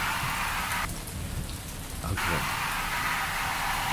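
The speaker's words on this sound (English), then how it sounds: "So let's turn off all the rain." Steady rain ambience from the We Harvest Shadows video game hisses continuously, dropping out briefly for about a second before returning at full level.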